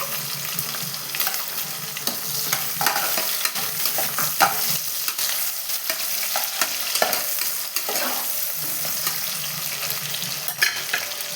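Sliced onions sauté in hot oil in a pan for chicken biryani, a steady close sizzle broken by repeated scraping stirs of the spoon, continuous and alone with no voices.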